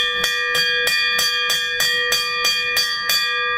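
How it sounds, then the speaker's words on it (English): A hand bell rung in a steady, even rhythm, about nine bright metallic clangs with ringing overtones sustained between strikes, loud and close with no talk. "I had to ring the bell"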